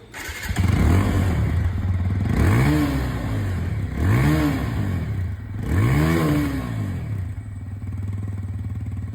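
A TVS Apache 160 2V motorcycle idles with a throaty exhaust rumble, revved three times in quick rising-and-falling bursts before settling back to a steady idle.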